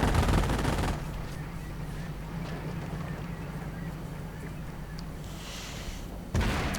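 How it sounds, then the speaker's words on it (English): Anti-tank guns firing in a World War II real-time strategy game, a dense stream of overlapping gunfire and blasts with a low rumble underneath, loud throughout with a sharper burst near the end. "It's just getting blasted, pummeled by the anti-tank guns."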